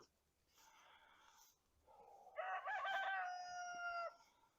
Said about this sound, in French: vous allez entendre le chant du coq